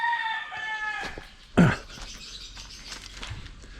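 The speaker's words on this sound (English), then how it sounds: "Rooster." A rooster crows nearby in Angeles City, Philippines, a clear tonal call lasting about a second, followed by a short loud thump and quieter background sounds.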